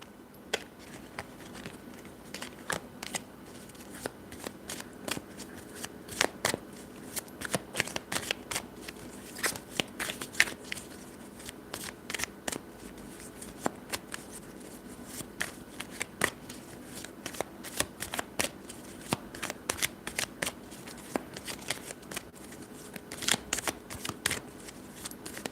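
Tarot cards are shuffled by hand close by, a long run of rapid crisp riffling snaps and flicks coming in bursts, with no voices.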